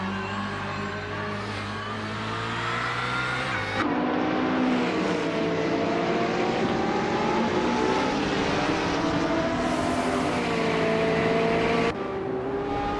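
Race cars in a racing video game drive past in a continuous, loud engine drone with shifting pitches and a few abrupt changes in tone, with no voices.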